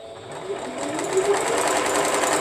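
A sewing machine stitches an applique, its needle running in a fast, even mechanical whir that builds and holds steady, close up with no talking.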